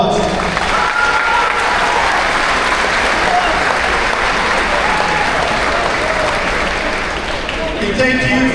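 Sustained applause from a school gym audience of parents, families, student athletes and coaches at a fall Meet the Teams night, loud and steady throughout with crowd noise, easing slightly near the end.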